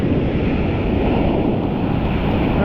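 Ocean surf breaks and washes onto a sandy beach close by, a continuous heavy roar of churning water with wind buffeting the microphone.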